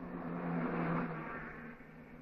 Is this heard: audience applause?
no